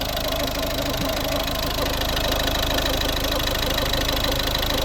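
A 2011 Volvo V50 1.6 D2 diesel engine idles steadily and loudly throughout, with a constant low rumble and faint rhythmic knock, no voices.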